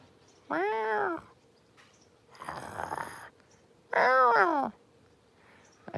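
A cat on a street in Kanazawa meows twice, long drawn-out cries close by, with a breathy, rustling sound between them.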